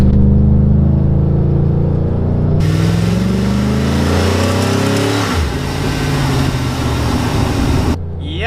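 Chevrolet Silverado with a 5.3L engine at full throttle, a loud close engine roar climbing steadily in pitch, then easing back near the end as the revs shift.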